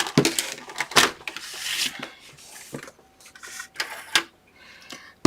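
Paper being scored on a scoring board to make a fold-flat gift card box, giving a series of sharp scraping strokes and rubs at close range with short pauses between them.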